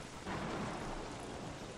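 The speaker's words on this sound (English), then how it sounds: "Storm, stop. Please be stopping now." Thunderstorm in the video game Don't Starve, a steady broad roar of heavy rain with a low rumble of thunder swelling briefly, continuous throughout.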